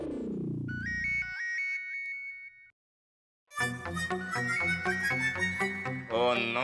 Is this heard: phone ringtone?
yes